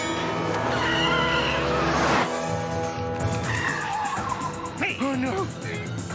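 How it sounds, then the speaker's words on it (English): In a cartoon car chase, tires squeal in a long skid that ends abruptly with a crash into a fruit vendor's push cart, followed by clattering and voices. "It's one of those crummy car chase scenes where the car hits the fruit vendor's push cart."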